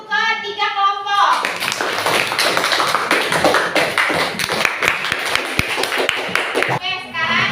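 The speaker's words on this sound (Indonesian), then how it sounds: "sekarang tepuk tangan untuk ketiga kelompok" A sixth-grade class of children claps for classmates' groups, a loud, dense burst of hand clapping lasting several seconds, with young voices mixed in before and after.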